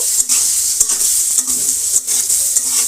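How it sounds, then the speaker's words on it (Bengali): Dried kachki and mola fish with green chilies sizzle steadily in hot oil while a utensil stirs and scrapes the pan in repeated strokes, close and continuous with no voices. "এটা আমি একটু ভালোভাবে নাড়া চাড়া করে ভালোভাবে ফ্রাই করে নিব"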